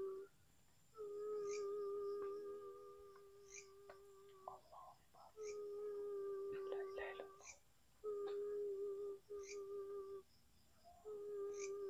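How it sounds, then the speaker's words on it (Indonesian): A long, wavering wail like a woman crying, heard at a campsite. It comes in several sustained, rising and falling phrases separated by short pauses, over a faint steady high buzz in the background. "Kayak seperti suara tangisan wanita gitu"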